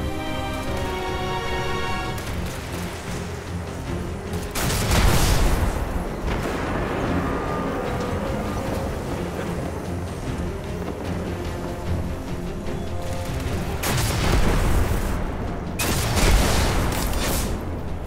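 Heavy cannon blasts from Destiny's Plaguelands boom over a steady droning game backdrop, with two big, loud eruptions spaced several seconds apart and rumbling tails between.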